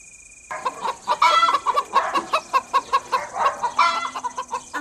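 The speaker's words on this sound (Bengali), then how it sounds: "আমাদের মুরগিগুলো এত জোরে জোরে শব্দ কেন করছে?" Hens cluck loudly and rapidly in a rhythmic run of close, agitated calls, with a few louder squawks rising through the series and no human voices.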